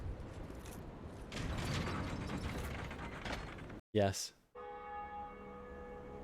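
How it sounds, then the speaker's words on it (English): Grinding gears and a ratcheting mechanism in Dark Souls Remastered churn noisily for a few seconds, then a creak leads into a clear bell strike that rings on with long sustained tones; a voice speaks briefly. "let's ring the bell."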